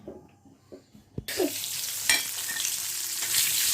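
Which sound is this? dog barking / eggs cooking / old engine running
eggs cooking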